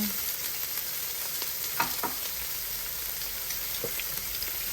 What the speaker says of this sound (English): We're going to caramelize some onions.